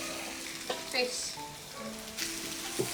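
Fish frying in a pan, a steady sizzle with a few sharper pops and stirring clatters, close by and moderately loud with no talking.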